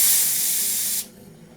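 A short burst of CO2 gas sprays into a home sparkling wine vessel to purge air, a loud close hiss lasting about a second before cutting off abruptly.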